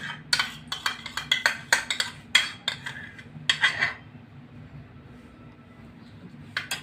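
A utensil whisks about two cups of yogurt in a bowl for bottle gourd raita, making quick clinking scrapes against the bowl in bursts that stop partway through, leaving a faint low background hum.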